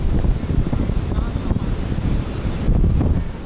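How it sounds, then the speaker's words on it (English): Gusty wind and breaking ocean surf along Sea View Beach, Karachi, on an early morning; a continuous dense rumble with wind buffeting the microphone, steady and fairly loud throughout. "The wind, the power of the ocean,"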